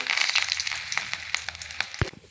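Curry leaves crackle and sizzle in hot oil after mustard seeds for a Kerala-style ivy gourd upperi, a dense hiss punctuated by sharp pops, with one louder spatter near the end.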